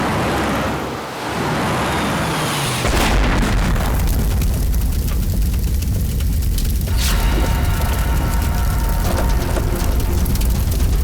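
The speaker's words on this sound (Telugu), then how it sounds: "అలా అయితే అంబులెన్స్లో బాంబు ఉంది." A bomb detonates aboard an ambulance, a loud boom with a sudden burst that leaves a sustained roaring, rumbling wash of debris and noise continuing for several seconds, with no voices.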